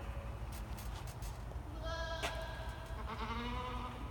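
Several meat goats bleat at a 4-H breeding stock fitting session, with short calls rising over steady low background noise and a louder call near the middle.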